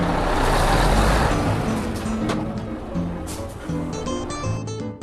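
Truck engine rumbling as the vehicle drives along toward a village, a steady broad roar that eases slightly, with faint clinks and bits of background noise.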